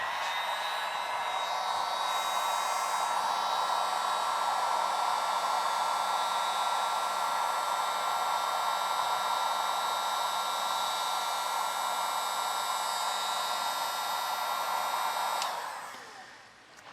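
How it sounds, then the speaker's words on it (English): A heat gun blows steadily on a 12V 100Ah LiFePO4 battery, a loud continuous rushing hiss with a faint electrical hum, running unbroken before cutting off and winding down near the end. "Using my heat gun."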